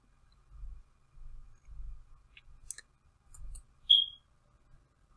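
A computer mouse clicks a few times in short, sharp, quiet taps with pauses between them, set against near silence and faint low thumps.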